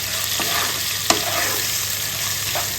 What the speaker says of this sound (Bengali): জাস্ট 1 মিনিটের জন্য আলুটা একটু তেলে নাড়িয়ে